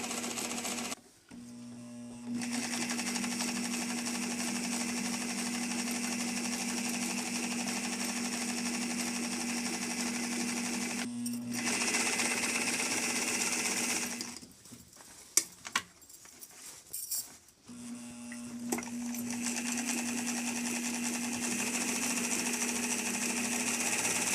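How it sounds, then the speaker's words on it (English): Sewing machine running in long steady bursts as it zigzag-stitches around a pocket on a child's dress, with a few short pauses and handling noises between runs. "We're zigzagging carefully around the pocket."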